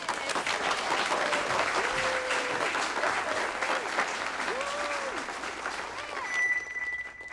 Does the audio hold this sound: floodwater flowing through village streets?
no